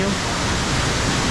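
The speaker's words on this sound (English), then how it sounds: "you can actually see the waterfall for a little bit just to take it in" A waterfall seen from a slowed theme park ride at Universal Studios Beijing gives a steady, close, broadband rushing roar that stays constant throughout.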